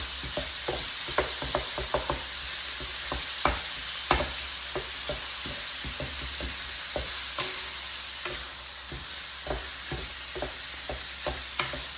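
Two wooden spoons stir and break apart ground meat frying in a pan for a meat pie, with a steady sizzle throughout and frequent sharp wooden knocks and scrapes, close and fairly loud, no voices.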